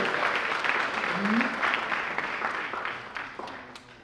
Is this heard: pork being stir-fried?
no